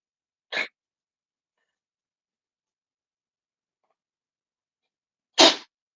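Two sharp sneezes, the first shorter and the second louder, separated by about five seconds of near silence.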